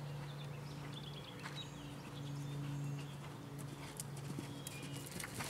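A horse's hooves clip-clop in a steady rhythm during a riding lesson, fairly close and continuous, with faint bird calls in the background.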